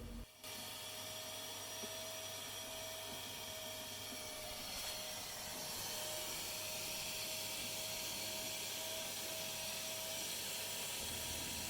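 A cleaning tool driven by a 3000 watt electric motor, used alongside a petrol Honda power washer on a block paved driveway, runs with a steady, loud, continuous whine and hum from start to finish.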